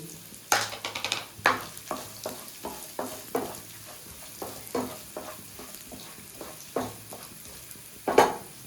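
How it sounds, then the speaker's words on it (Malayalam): Grated coconut roasting in ghee, stirred with a spoon that scrapes and taps the pan in a steady rhythm of strokes over a faint sizzle, nearby and wordless. "രണ്ട് ടീസ്പൂൺ നെയ്യിൽ നമുക്ക് വറുത്തെടുക്കാം"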